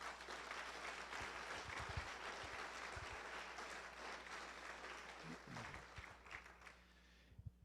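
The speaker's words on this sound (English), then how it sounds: "So let's give the speakers a round of applause" Audience applause for speakers at a book presentation, a faint, distant wash of steady clapping that tapers off near the end.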